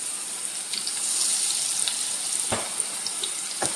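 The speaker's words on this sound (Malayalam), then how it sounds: "ഒരു വശം ഇതുപോലെ ആയി കഴിയുമ്പോൾ നമുക്ക് തിരിച്ചും മറിച്ച് വിട്ട് ഫ്രൈ ചെയ്തെടുക്കാം" Bitter gourd pieces frying in oil in a pan, a steady close hiss and sizzle with a few brief crackles and pops, heard alone without talk.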